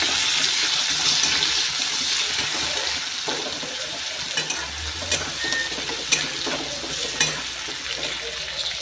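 Cumin, chili and onion fry in hot oil in a pan, giving a steady broadband sizzle with occasional stirring scrapes and clicks, close and moderately loud with no talking.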